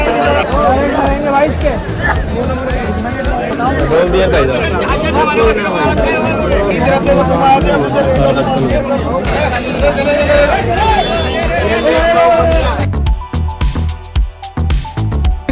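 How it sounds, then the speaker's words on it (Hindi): Dense, loud crowd at Chor Bazaar market, with a continuous babble of many voices and nearby talking, thinning briefly toward the end. "खतरनाक भीड़ हो रखी है।"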